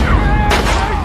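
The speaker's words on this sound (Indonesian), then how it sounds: "si Percy menembak si Wharton sampai meninggoy" A single loud gunshot in a film scene, a sudden sharp blast partway through, set against a dense, loud musical background.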